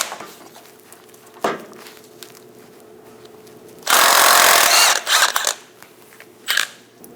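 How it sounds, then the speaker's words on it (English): Impact or power tool with a 21mm socket spinning off a nut on a 2003-2025 Chevrolet Express 2500 idler arm, a loud whirring burst of about a second followed by shorter bursts, with metallic clicks before. "Using a 21mm socket, remove the nut"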